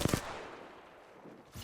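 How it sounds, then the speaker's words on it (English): Bots firing at the player in Apex Legends: a quick double burst of gunshots opens, then a brief lull with fainter distant shots fading in and out. "Bomb bots are shooting at me."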